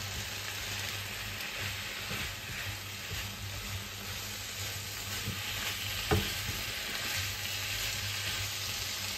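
Apples frying in a pan and being stirred, with continuous sizzling and occasional scraping of the utensil, a short knock partway through, and no talk.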